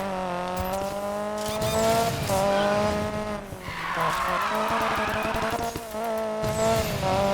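A Ford Focus RS with a speedcross build drifts in Need for Speed Payback, its engine holding a strained, steady whine while the tires squeal and scrub almost continuously.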